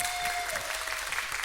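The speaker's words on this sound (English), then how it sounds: "Give her a round of applause." A meeting audience at a Fulshear Regional Chamber of Commerce monthly gathering gives a steady round of applause, a dense, even wash of many hands clapping at moderate volume for the full stretch.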